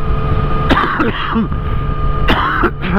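A man coughs and clears his throat, several short raspy bursts up close over a constant background hum.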